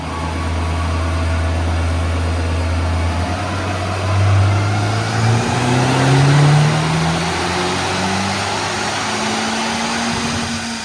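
A stock Honda Civic Type R revs on a dyno, the engine tone climbing smoothly from a low drone to a high strained note up to the rev limiter, loud and close over the roar of the rollers.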